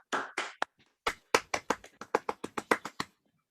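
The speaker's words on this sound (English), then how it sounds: "So maybe we can clap again." An audience applauds after a mathematics lecture, a short burst of claps, a brief pause, then a quick series of sharp individual claps from a small group.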